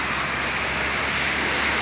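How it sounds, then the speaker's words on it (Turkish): Heavy rain pouring onto a flooded city street in Adana, a dense, continuous broadband roar of falling water and rushing runoff, loud and unbroken throughout with no voices. "Yağmur devam ediyor, evet arkadaşlar. Sel suyu diyelim, evet."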